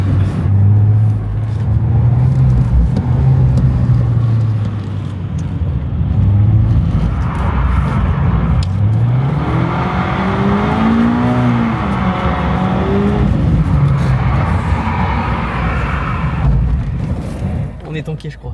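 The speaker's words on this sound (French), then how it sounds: "Ouais, faut qu'elle patine les roues" A car drifts on gravel with wheels spinning, its engine droning and rising in pitch through a long rev, heard from inside the car under the talk of occupants.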